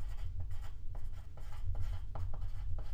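Numbers written out by hand with a pen on paper, rapid scratchy strokes in short uneven bursts over a steady low background hum, close and moderately loud.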